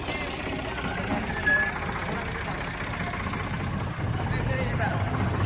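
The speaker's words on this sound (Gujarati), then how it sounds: "આ ટ્રેક્ટરની અંદર આપણો આખો પરિવાર જાય" A tractor engine runs steadily up close, a continuous low knocking rumble carrying a family to a village fair, with people talking over it throughout.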